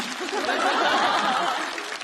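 Audience applause at a stand-up comedy show, a dense sustained wash of clapping mixed with some chuckling that holds steady for about two seconds before easing slightly.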